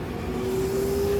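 An MRT train at a station in Taiwan gives a steady loud rumble with a rising whine as it moves, continuous and close, with no talking.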